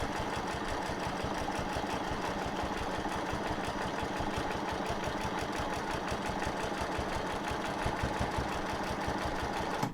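A sewing machine stitches through a quilt with a fast, even run of mechanical pulses that holds steady for the whole stretch, moderately quiet and close, with no talking.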